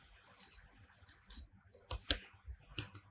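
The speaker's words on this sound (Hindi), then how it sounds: "right click" A computer mouse clicked during an Adobe XD design session: several sharp, quiet clicks spaced irregularly, with a couple of closer pairs, over near silence.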